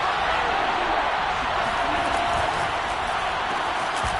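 Football stadium crowd roaring on third down in a Green Bay Packers game, a loud sustained wall of noise with no break.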